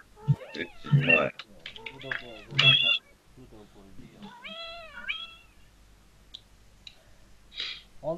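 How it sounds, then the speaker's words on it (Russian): A house cat meows several times in a room, with rising and falling cries mixed with people talking nearby, plus a few light clicks. "Кошка как мяукает у вас."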